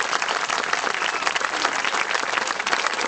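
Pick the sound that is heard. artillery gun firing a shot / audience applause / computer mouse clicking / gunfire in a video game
audience applause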